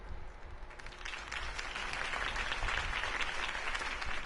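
Crowd applause from a Batman video game on PS4 builds steadily from moderate to sustained, dense clapping, with no voices over it.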